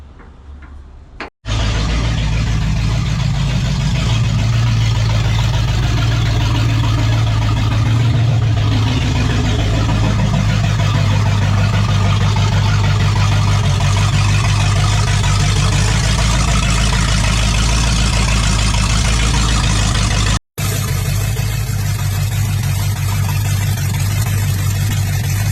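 A 1986 Dodge W150 pickup's 360 V8 engine cranks and catches, then runs at a loud, steady, deep idle for over twenty seconds, with a brief cut-out near the end before it resumes.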